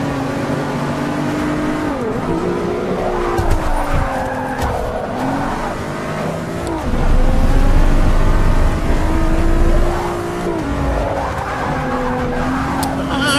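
A Lamborghini launches from the start in Forza Motorsport 6, its engine loud and close as it revs up and climbs through the gears, with brief tire squeal and rising and falling pitch through each shift.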